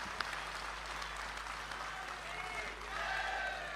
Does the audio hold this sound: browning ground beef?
no